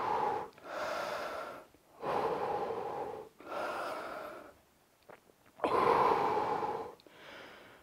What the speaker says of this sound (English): So keep breathing.